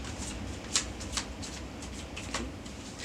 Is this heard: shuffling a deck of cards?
yes